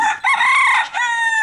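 A rooster crows nearby, one loud cock-a-doodle-doo with a rising opening note, a sustained middle and a falling tail.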